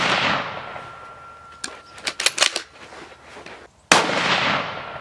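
A shot from a CZ 600 Trail rifle fired at a target, a sharp loud crack near the end after a quieter stretch of clicks and handling noises, with the report ringing out afterward.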